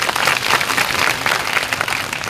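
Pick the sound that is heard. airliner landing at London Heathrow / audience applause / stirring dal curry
audience applause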